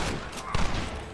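A dense burst of gunfire in the Western video game Red Dead Redemption, a steady rattle of shots running through the whole moment with one louder report near the middle, with a voice faintly in the mix.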